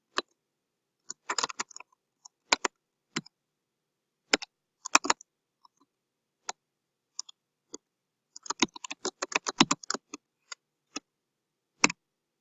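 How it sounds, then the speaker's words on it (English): Keys clatter on a computer keyboard as a line of Java code is typed, in sparse irregular taps that thicken into a quick cluster near the end, close and crisp over silence. "let's type the following line of code: system.out.println hello world"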